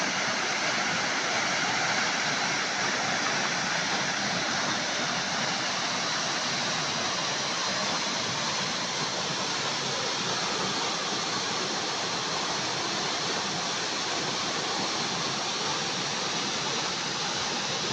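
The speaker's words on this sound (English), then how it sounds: "This waterfall is at Lake Nakuru National Park." Makalia waterfall at Lake Nakuru National Park pours in a dense, steady roar of rushing water, loud and close, with no other sounds breaking through.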